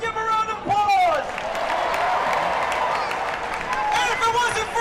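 Crowd at the Baylor Bears National Championship parade applauding and cheering, a dense, steady wash of clapping and shouts with whoops and background voices throughout.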